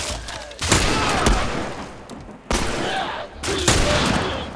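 Repeated gunfire bursts from The Last of Us, loud volleys of shots in three separate clusters with brief gaps between them, dominating the scene with little else audible.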